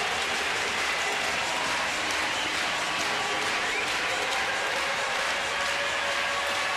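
Crowd at Camden Yards roars for a home run during an Oakland at Baltimore baseball game, a broad, continuous wash of cheering and applause from the stands holding steady and loud throughout.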